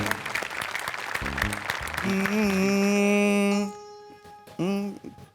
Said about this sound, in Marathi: पंडितजींसाठी एकदा जोरदार टाळ्या